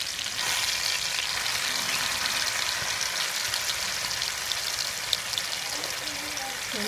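Bulgur wheat and pinto beans cooking in a pot, a steady bright sizzle and bubbling hiss that holds evenly throughout with faint clinks near the end.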